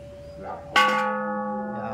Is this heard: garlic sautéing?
no